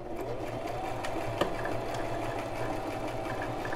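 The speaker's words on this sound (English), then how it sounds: "I'm going to actually sew and then backstitch" A Brother LX3817 domestic sewing machine runs a satin stitch at a steady, close-up whir with a rapid needle rhythm, continuous throughout and alone.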